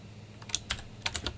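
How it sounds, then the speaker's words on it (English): Clicky keystrokes on a computer keyboard, a handful of separate taps and short bursts spaced irregularly, close and fairly quiet, with no voice. "It's my stupid keyboard."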